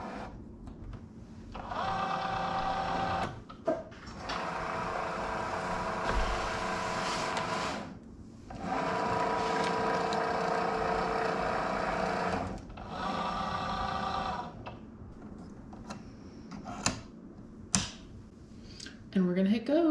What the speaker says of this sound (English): Now we're gonna load it into the Cricut.